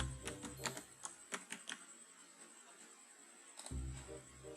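Keys clatter in a quick irregular burst of taps on a computer keyboard while a name is typed into a Google Forms title field, then pause and resume briefly near the end, close and fairly quiet.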